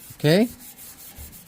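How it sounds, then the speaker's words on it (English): Scuffing a Pontiac Firebird firewall by hand before painting, like sanding, makes faint, quick rubbing strokes, with someone briefly speaking at the start. "it's simple as just scuff like you're sanding to give it a tool for the paint to catch"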